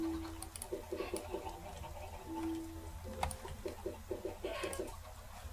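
Short bursts of rapid chicken clucking in modded Minecraft repeat several times amid soft background game sounds and faint clicks.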